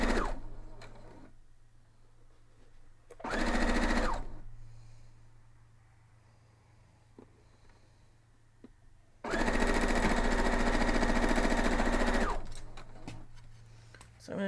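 Sewing machine stitching a quilt block in two steady bursts, a short run and then a longer one, close and fairly loud, with quiet pauses between.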